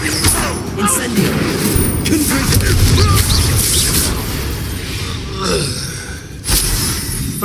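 An Incendio fire spell cast in the Hogwarts Legacy video game, a loud roaring burst of flame with whooshing and crackling that swells, fades, then flares again near the end.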